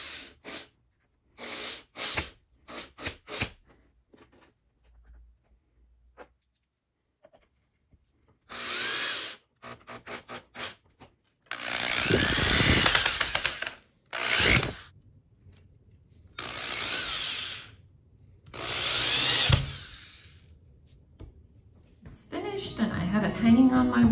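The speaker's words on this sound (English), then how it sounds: "I'm just gonna screw everything in place and we'll be good to go" Power drill driving No. 8 5/8-inch screws into a thick picture frame without pilot holes, several loud whirring bursts of a few seconds each separated by pauses, close up, with some brief handling clicks.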